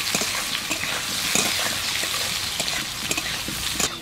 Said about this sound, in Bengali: এবার আলুর মধ্যে সয়াবিনগুলো দিয়ে দেব।